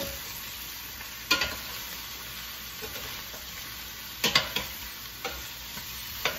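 A spoon stirs arroz caldo in a pot, a few sharp scraping knocks against the metal over a low simmering background, close and fairly quiet.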